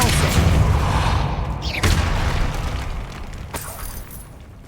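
Depulso, a force-push spell from the Hogwarts Legacy video game, lands as a heavy booming burst followed by a sharp whooshing crack and a rumbling tail that fades away, with a second faint impact near the end.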